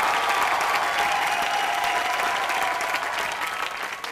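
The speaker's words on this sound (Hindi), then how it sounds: "रामू सर के लिए जोरदार ताली" A studio audience at a live comedy awards show breaks into dense, sustained applause, a full crowd clapping steadily for several seconds before tapering slightly at the end.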